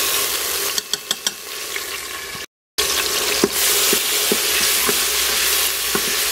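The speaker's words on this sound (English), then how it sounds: "Let that fry up a little bit." Minced garlic fries in a pan, a loud, dense sizzle filling the whole stretch, broken by a few quick clicking taps early on and a brief cut to silence midway, then spoon scrapes resume.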